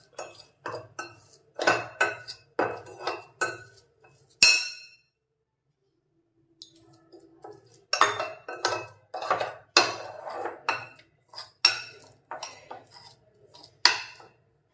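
Spice paste for a mackerel fry being mixed in a bowl, with a spoon clinking and scraping against the bowl in quick irregular bursts, a few seconds of near silence in the middle, close and crisp, no voices.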